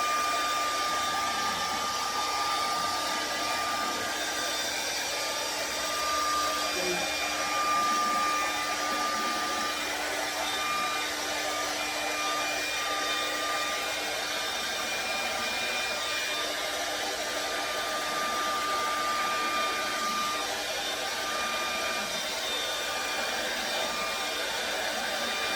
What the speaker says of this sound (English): The blow dryer helps you to push it along.